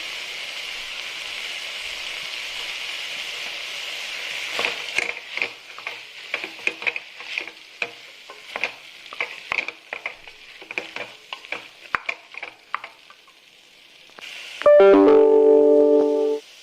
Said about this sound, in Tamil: மஞ்சத்தூளையும் சேர்த்து கிளறிடலாம்.